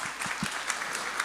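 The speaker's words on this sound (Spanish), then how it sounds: "Un aplauso para los que trajeron Biblia." A church congregation claps together in a brief burst of dense, even applause, with a faint voice beneath the clapping.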